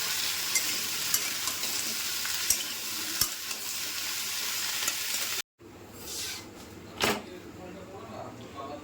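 Curry with ginger and green chilli sizzles and fries in a pan on a home kitchen stove, a steady crackling hiss with occasional stirring clinks, a short break, then quieter frying under a few sharp knocks.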